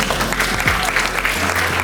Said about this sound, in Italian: e un altro applauso